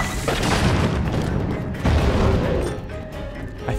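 Bomb explosions in Zelda: Tears of the Kingdom, loud booming bursts with a second heavy blast partway through, followed by a rumbling tail.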